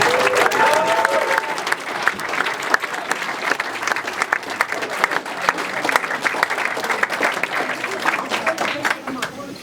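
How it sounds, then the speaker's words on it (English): Wedding guests applaud together at a bride and groom's reception speech, a dense, steady wash of many hands clapping that holds for several seconds, moderately loud and fairly near, with a few faint voices mixed in. "give yourselves a big, big hand of applause"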